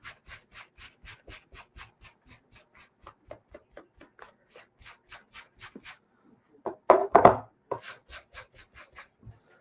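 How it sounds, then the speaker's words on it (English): Magic eraser scrubbing marker off a Hinderer knife blade, with quick, soft rubbing strokes in steady rhythm and a brief louder burst of vigorous scrubbing midway, close and quiet with no talking. "Got a magic eraser,"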